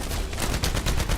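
Rapid gunfire from weapons in the video game The First Descendant: a dense, rhythmic burst of repeated shots, loud and steady throughout, with no talking.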